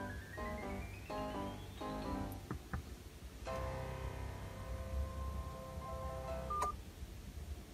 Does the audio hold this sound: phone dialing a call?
yes